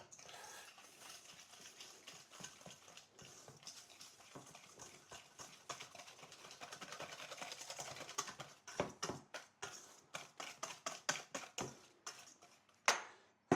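A worn whisk beats ice cream ingredients in a bowl, faint at first and then a quicker run of distinct clicking taps toward the end, close and quiet with no speech.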